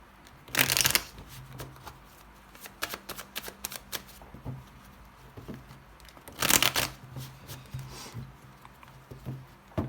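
Tarot cards are shuffled close up in a quiet room, giving soft riffling and patting bursts with two louder riffles and scattered light card taps between them.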